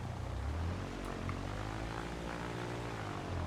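A propeller aircraft engine drones steadily in the X-Plane 11 flight simulator, its pitch and power briefly rising and falling with a throttle blip near landing, heard alone without talk.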